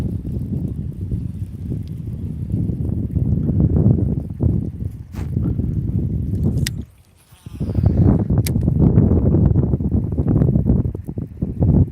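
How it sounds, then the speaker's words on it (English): North wind blowing steadily across open water on an early morning fishing outing, a continuous low rumbling buffet on the microphone with gusty swells and a brief lull midway. "The north wind blowing today."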